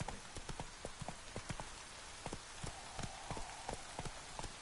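Hooves of Roach, a horse in a video game, beating out a steady galloping rhythm, fairly soft and even, with no talking over it.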